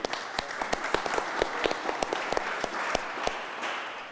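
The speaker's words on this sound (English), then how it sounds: "Let's give them a big round of applause" A conference audience at a citizenship education and EU policy closing panel applauds steadily to welcome speakers to the stage, a dense wash of many hands with sharper individual claps standing out throughout.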